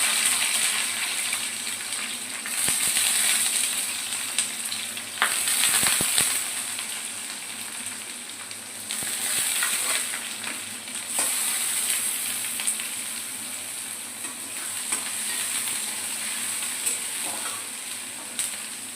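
Onions fry in a pan with curry leaves and garlic, producing a continuous close sizzle that swells and eases as spatula scrapes and clinks of stirring come through intermittently, with no one speaking.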